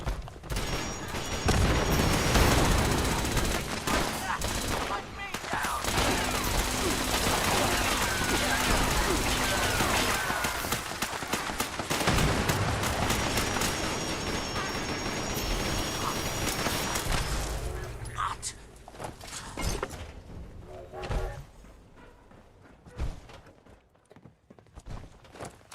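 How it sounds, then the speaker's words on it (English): Gunfire in the video game Fallout 76, a dense, busy stretch of shots and action sounds that runs loud for most of the clip before thinning out near the end, mixed with other game noise. "Who is shooting?"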